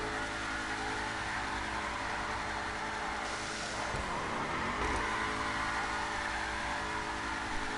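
A car engine in Grand Theft Auto Online drones steadily with a rough exhaust note. The pitch dips and then climbs again in a rev, under a constant dense roar with no talk.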